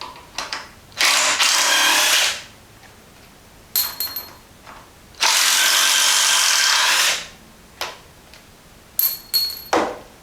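A Black & Decker BDCI20C 20-volt cordless impact driver whirs in two long bursts, backing 3-inch bolts out of wood, with short rattling impacts and clicks between, close and loud, with no talking.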